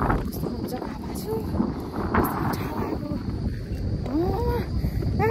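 Steady, loud wind roars and buffets the microphone on a cold, foggy hilltop ridge at Kalaghar in Nepal, with faint voices briefly rising through the gusts.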